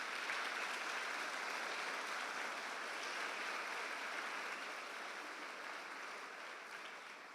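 A church congregation applauds in praise during a worship service, a dense, steady wash of clapping that holds for several seconds and slowly thins toward the end, heard alone with no talk.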